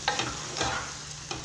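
Rice fries in a pan with a steady sizzle, stirred a few times with short scraping bursts, close and fairly loud, with no talking.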